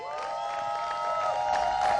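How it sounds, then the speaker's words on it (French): A studio audience at a televised show applauds and cheers in a steady, moderately loud wash of clapping and voices, with a sustained musical tone running underneath. "on peut l'applaudir bien fort"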